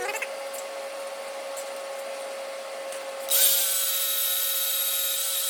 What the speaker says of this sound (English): So I'm just gonna wire wheel this inside where I tack welded all this.